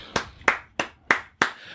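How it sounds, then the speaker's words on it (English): One person claps slowly and deliberately during a podcast conversation, six sharp, close claps spaced evenly about a third of a second apart. "I'm giving you a round of applause."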